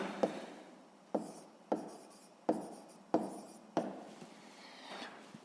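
A pen scratches out a sixth-grade math exercise by hand, about seven quick, rhythmic strokes on paper, close and alone.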